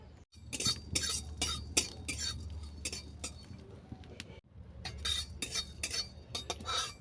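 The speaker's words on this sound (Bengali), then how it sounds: "চাটনি বসানোর আগে আমি কিছু মশলা ড্রাই রোস্ট করে নেব" Whole spices such as cloves, cardamom and kathdana are dry roasted in a pan, with intermittent clinks and scrapes of a metal utensil stirring them, close and fairly quiet.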